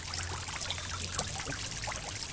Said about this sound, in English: The sound of the water makes me want to go to the loo in a minute.